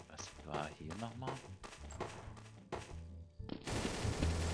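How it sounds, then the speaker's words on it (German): Gunshots in the game Trouble in Terrorist Town, several rapid shots in bursts heard under excited talk, with a louder sustained stretch of gunfire at the end. "Ich habe jetzt drinnen geschossen."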